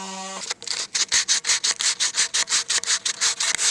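Rapid, rhythmic scratchy strokes of a power sander on the wooden legs of a splay-legged table, close and steady, following a brief tonal hum at the start; no voices.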